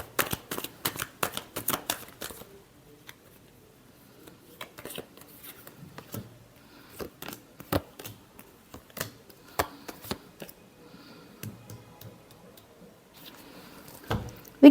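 Tarot cards shuffled by hand for a reading, a long run of crisp riffling bursts and flicks of varying loudness, close and clear, with short pauses between rounds and no talking.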